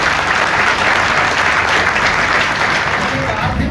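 Loud, dense applause from an audience at a celebratory event fills the whole span, steady and sustained without a break.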